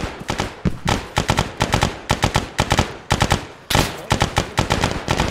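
Gunfire in a military video game set in Belorussia: dense, loud, nearly continuous automatic bursts crackle in clusters with very short pauses, heavy and close throughout.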